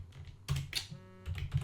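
Close, quick bursts of keystrokes on a computer keyboard while someone writes JavaScript code, clustered in uneven runs with brief pauses between them.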